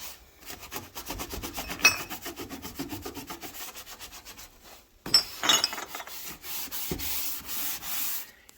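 A kitchen gas stove is scrubbed, with rapid rhythmic back-and-forth rubbing strokes close by, a brief pause midway, then more uneven scrubbing and a light knock.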